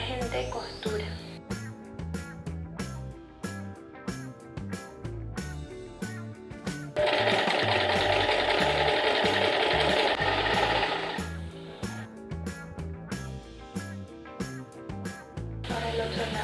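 A sewing machine stitches the side seams of a faux leather skirt, close and rhythmic in short bursts with one long continuous run in the middle, while someone talks over parts of it.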